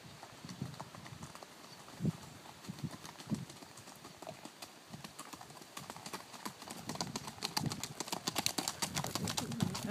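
A horse's hooves clip-clop in an uneven string of sharp knocks, moderately close and fairly quiet, with faint bird sounds in the background and no one speaking.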